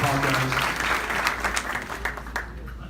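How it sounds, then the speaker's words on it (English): An audience claps at a 2018 high school graduate scholarship ceremony at Henry Ford College, a dense burst of applause that thins out over a few seconds with faint voices underneath. "So let's give everybody a round of applause."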